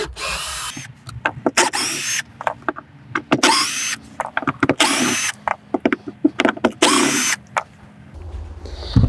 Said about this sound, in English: I'm just going to remove the screws from the floor.